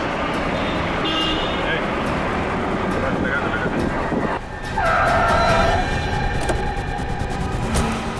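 A car braking hard beside a taxi in street traffic gives a loud tire screech partway through, over continuous roadway rumble.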